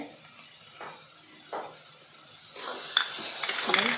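Bottle gourd halwa with roasted mawa and cardamom powder being stirred in a pan: soft scraping strokes at a steady pace, with louder sizzling and clinks of the spoon building toward the end, close and alone.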